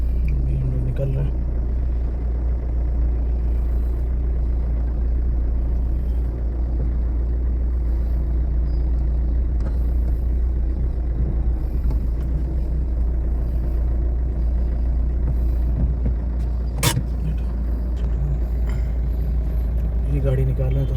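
A car is driven out of a parking spot, with a low steady engine rumble running throughout while a person talks over it.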